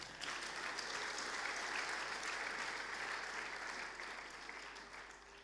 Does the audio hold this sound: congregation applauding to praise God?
yes